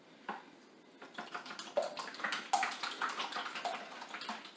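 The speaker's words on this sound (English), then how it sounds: "now I'm going to whisk my eggs. There's 6 eggs here." Six eggs are whisked in a bowl, a quick, steady clatter and splash of utensil against the bowl that starts softly and grows busier and louder toward the end.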